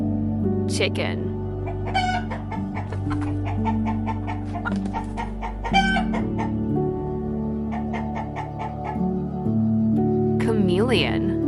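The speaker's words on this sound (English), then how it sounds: "Chicken." Chicken clucks in short repeated bursts with a rooster crowing near the start and end, all set against a continuous musical backing track.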